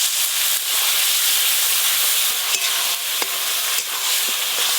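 Mustard paste masala with turmeric, salt and slit green chillies fries in hot oil after a splash of water goes in, giving a loud, continuous sizzle and steamy hiss with a few faint clicks and no talking.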